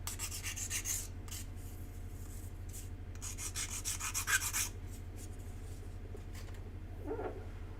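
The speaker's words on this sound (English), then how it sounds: "And I'm going to hit it with just a little tiny bit of sandpaper." Small piece of sandpaper rubbed by hand in short rasping strokes, close but soft, over a steady low electrical hum, trailing off after a few seconds.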